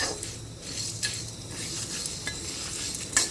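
Whole spices for a young goat meat curry fry dry in a pan, with a steady sizzle and rustle as a utensil stirs and occasionally clinks against the metal.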